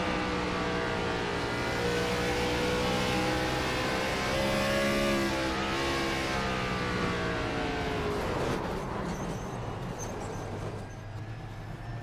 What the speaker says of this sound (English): Let's go on board with him.